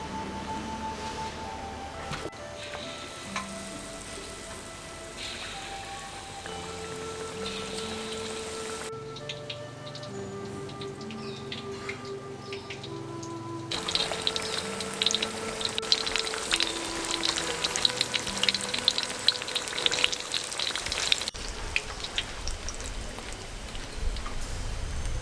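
Pumpkin pieces frying in hot oil until golden for a vegetarian cereal pumpkin dish, a steady dense sizzle that swells louder and busier partway through, with soft music carrying on underneath.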